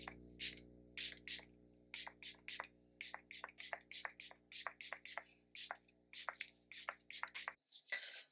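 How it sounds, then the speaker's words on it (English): Rare Beauty Always an Optimist 4-in-1 setting mist sprayed onto a face: a rapid series of about two dozen short, hissing spritzes in an uneven rhythm, close and quiet over a faint low hum. "I'm gonna set my entire face using this Always an Optimist 4-in-1 mist"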